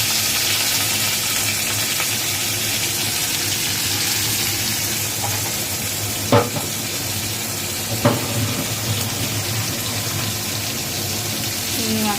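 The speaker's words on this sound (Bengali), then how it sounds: "এবার এর মধ্যে চিংড়ি মাছটা দিয়ে একটু ভেজে নেব।" Prawns fry in a pan, a steady loud hiss of hot oil broken by a couple of brief clinks of stirring.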